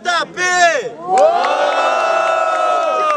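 A crowd at a rap battle cheers and shouts loudly, with whoops and high voices rising together and sustaining into a long roar.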